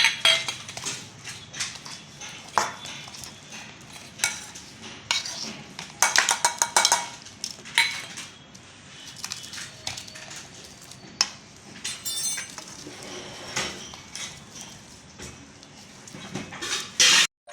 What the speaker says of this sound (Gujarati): તો હવે આપણે મસાલો મિક્સ કરવાનો છે